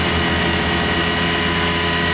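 A Mazak VCN 410A-II vertical machining center spindle spinning at speed, a steady dense mechanical whir with faint ratcheting texture and low hum, loud and continuous with no talk.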